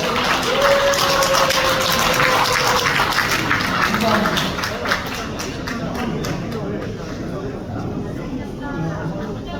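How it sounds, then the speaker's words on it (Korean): Audience applause fills a lecture hall at a forestry academy event, steady clapping from a crowd lasting several seconds and slowly tapering off, with some chatter mixed in. "와주신 원장님께 큰 박수 부탁드리도록 하겠습니다"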